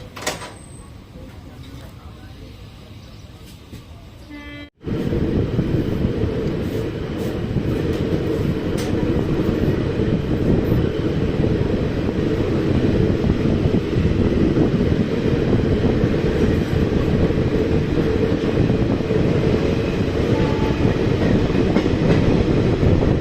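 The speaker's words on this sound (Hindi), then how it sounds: "ये आ रही है अपनी जैसलमेर से और पुरानी दिल्ली जा रही है रुनीचा एक्सप्रेस" The Runicha Express, running from Jaisalmer to Old Delhi, rolls past a station platform. After a quieter opening the roar starts abruptly, then a loud, sustained rumble of wheels and cars with rhythmic clatter and wind buffeting continues to the end.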